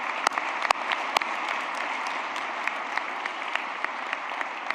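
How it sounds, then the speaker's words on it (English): Audience applause at the UNLV Kirk Kerkorian School of Medicine White Coat Ceremony, a steady, moderately loud wash of many people clapping, with a few sharp nearby claps popping out, sustained throughout. "Let's have a round of applause for those people."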